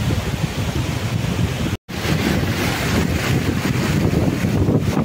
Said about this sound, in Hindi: ये देख सकते हो पानी कितना गिर रहा है, ये देख लीजिए ऊपर वाटरफॉल